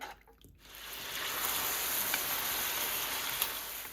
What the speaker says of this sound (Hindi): तेल डाल लेते हैं, 1 किलो चिकन डाल लेते हैं। चिकन को इतनी देर पकाना है चिकन का रंग चेंज हो जाए।